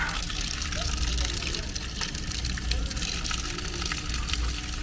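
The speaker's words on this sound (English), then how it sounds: "Mineral water, guys. Directly from the mineral springs." Mineral spring water gushes steadily from a public tap in Sofia, a continuous loud rushing and splashing with faint voices around it.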